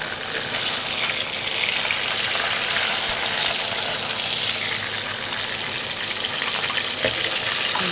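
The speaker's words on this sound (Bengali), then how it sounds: "ভাজা হচ্ছে মাছ" Fish frying in a pan while being turned side to side, a dense continuous sizzle of oil held at an even, fairly loud level from start to finish.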